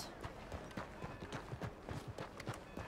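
Horse hooves clip-clop in the video game Red Dead Redemption 2, a steady rhythmic trot of hollow knocks, fairly faint and continuous throughout.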